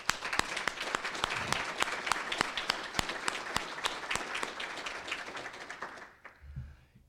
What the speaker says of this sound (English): So I want to give everyone a hand.